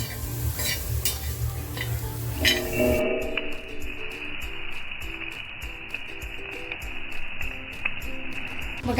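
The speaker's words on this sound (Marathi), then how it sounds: "बोंबील आहे ना आपल्याला तव्यावर टाकून कुरकुरीत भाजून घ्यायचे" Bombay duck fish dry-roasts on a griddle without oil, giving a steady crackling sizzle with scraping stirs; a rhythmic high clicking pattern runs through the later part.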